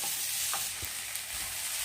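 Tomatoes, garlic, ginger and green chillies sauté in a pan for a potato and peas gravy, giving a steady, quiet sizzle with a few soft stirring scrapes and no voices.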